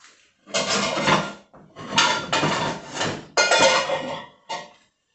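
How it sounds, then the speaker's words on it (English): Metal pans and pots clatter in a kitchen as one is set on the cooker, with several loud bursts of clanking and scraping and short pauses between them. "I'll put the pan on."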